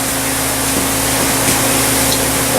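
Spray gun applying Cerakote coating during an AR rifle refinish, a steady continuous hiss of air and atomized finish holding at close, even loudness with a low hum beneath.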